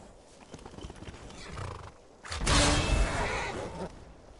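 Hooves clip-clop softly, then a horse lets out a loud, drawn-out whinny close by, fading at the end.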